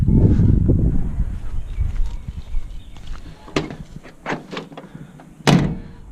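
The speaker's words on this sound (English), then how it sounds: "if your door rattles when it's fully latched, like that, you can hear that" Truck door closing and latching, then rattling loosely on its worn striker pin: a heavy thump followed by a series of sharp metallic knocks and clunks at irregular intervals, close and clear.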